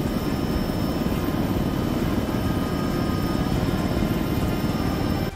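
Helicopter rotor and engine from the ARMA 3 military shooter game, a steady dense low-frequency thrum that holds loud and unbroken from start to finish with no talk over it.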